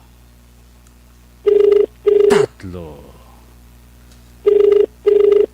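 A cellphone ringing in two pairs of loud, evenly spaced electronic ring bursts, close and clear, with someone speaking briefly between them.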